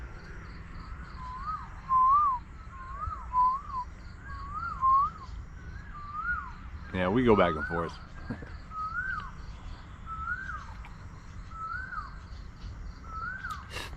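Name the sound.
several kinds of birds calling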